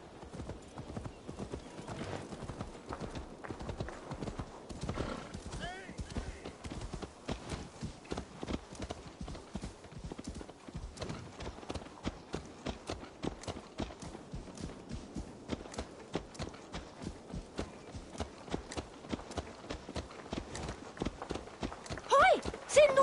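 Horse hooves clip-clop steadily in Assassin's Creed Valhalla, a continuous walking rhythm of close hoofbeats running throughout, with occasional snorts or whinny-like sounds.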